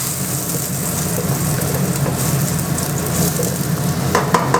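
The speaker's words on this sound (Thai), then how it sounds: "ผัดให้หอมก่อนนะครับเพื่อนๆ มันจะได้อ่า ดับกลิ่นเหม็นเขาเรียกเหม็นเขียวของพริกไปด้วย" Chilies stir-fried in hot oil in a wok for Thai basil squid, a dense continuous sizzle with spatula scrapes and a few sharper clanks near the end, loud and close.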